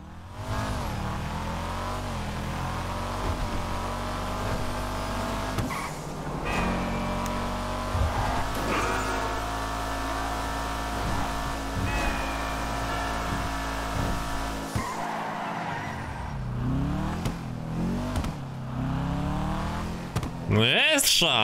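A car engine in GTA Online revs hard and continuously, rising and falling in pitch with brief tire squeal, loud and close throughout with no talk over it.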